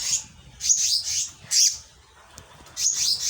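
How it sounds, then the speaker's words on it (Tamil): A flock of birds gathers close by, chirping in short, bright bursts separated by brief pauses, with no voices over them. "இங்கே பாரு, எல்லா பறவையும் வருது."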